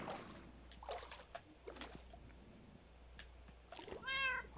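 A cat meows once near the end inside the Minecraft video game, following quiet underwater ambience with soft water trickles and sloshing in a glass and prismarine base.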